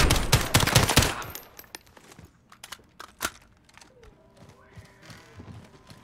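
Gunfire in the 2019 Call of Duty: Modern Warfare campaign: a loud, rapid burst of automatic shots opens, followed by a few fainter, scattered single shots and clatter.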